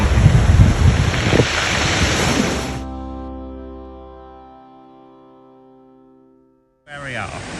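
Waves break on rocky, sandless Playa Paraiso beach on the Costa Blanca, heard as a loud close wash of surf buffeted by wind noise, cutting abruptly to a fading ringing tone and near silence before a brief burst of wind returns.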